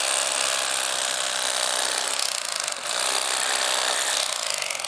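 Battery-powered Bubba Blade lithium-ion electric fillet knife with dulling blades cutting through a fish, a loud continuous buzzing whine held steady for several seconds with a brief dip near the middle, no talking.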